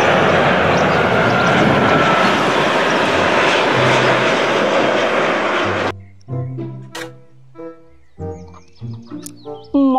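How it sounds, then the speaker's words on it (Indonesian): A toy airplane roars loudly with a continuous engine drone for about six seconds, then cuts off abruptly, leaving scattered clicks, knocks and short tonal beeps. "Pesawat terbang."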